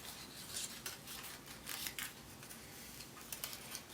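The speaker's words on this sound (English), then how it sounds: "we're going to cut this apart, and you're just going to cut along those lines, the creases that you just made with those 2 folds" Scissors snipping through colored paper doilies along folded creases, a soft continuous run of crisp cutting and rustling strokes, close and fairly quiet, with no talk.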